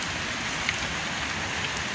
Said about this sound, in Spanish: Ni siquiera es mediodía y ya está lloviendo.